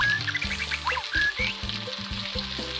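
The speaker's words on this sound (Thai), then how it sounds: "แล้วเราก็เอากระทะใบเนี่ยไปผัด พริกกับกระเทียมต่อครับ" Chili and garlic stir-fried in a wok give a steady sizzle and frying crackle, close and fairly loud, with occasional scrapes and knocks from stirring.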